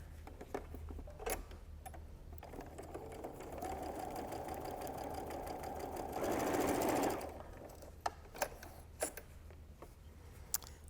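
A home sewing machine stitches quilt pieces together for a wonky heart baby quilt: a steady mechanical whirring run that swells louder near its end, then stops, followed by a few sharp clicks and handling taps.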